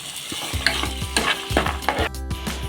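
Fresh cowpeas frying in oil in a pan, with steady sizzling and repeated stirring scrapes in an even rhythm, heard close up with no talking.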